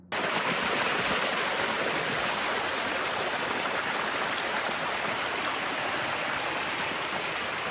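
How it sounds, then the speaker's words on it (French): Water rushes steadily in a close, continuous hiss and gurgle, like a small stream flowing over rocks, with no voices. "c'est un ruisseau"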